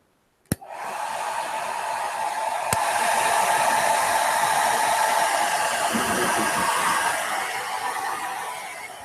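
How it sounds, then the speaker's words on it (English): A hair dryer switches on with a click and runs steadily with a loud, continuous whooshing roar, no voices over it. "let's just put this last little dryer on"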